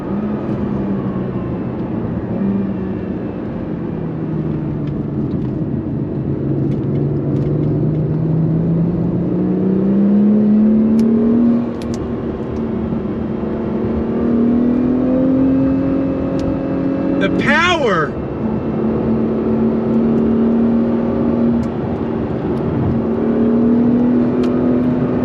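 A 2022 Acura NSX Type S supercar engine revs loud and close, its drone rising and falling in pitch before a sharp, quick rev sweeps high and drops back into a steady roar.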